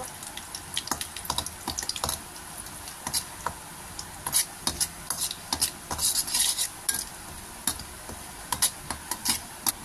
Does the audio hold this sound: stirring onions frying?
yes